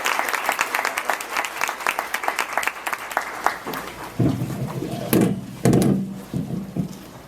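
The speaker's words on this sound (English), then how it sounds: "Let's give him another round of applause, please." Audience at a talk applauds the speaker, a dense, loud burst of clapping that thins out and turns into scattered louder claps and some knocks toward the end.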